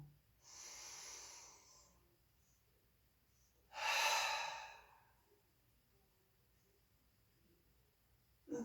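Slow, deep exhalations during a seated chair yoga practice, two long audible breaths out a few seconds apart, close and soft in an otherwise quiet room.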